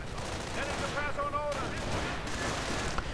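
Rattling gunfire and a heavier thudding mortar strike from a World War II real-time strategy battle with riflemen, Panzer IV tanks and self-propelled artillery, crackling steadily under a commentator's voice with a brief sharper burst near the end.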